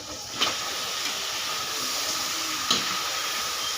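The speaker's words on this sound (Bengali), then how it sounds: "মাংসটা দিয়ে দিলাম।" Marinated mutton hits a hot pan of fried spice paste and sizzles in a steady, close hiss. Two short clatters sound from the pan, and nobody speaks.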